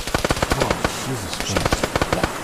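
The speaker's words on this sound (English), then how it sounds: "Is that a vehicle? Oh, no, it's a gun." Rapid bursts of automatic gunfire from a gun in a zombie adventure video game, loud sharp repeated shots in quick clusters, with a voice talking over parts of it.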